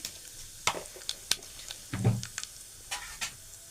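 Cumin and mustard seeds crackle in hot oil with turmeric while tempering a Konkan-style horse gram curry, giving faint, scattered pops and a soft sizzle.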